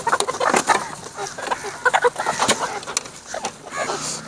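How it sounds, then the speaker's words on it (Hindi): Backyard village chickens clucking while pecking at grain, a busy chorus of close, overlapping clucks and short calls in a steady rhythm throughout. "देखिए हाँ माशाल्लाह से देखिए कितनी प्यारी हैं मुर्गियाँ मेरी।"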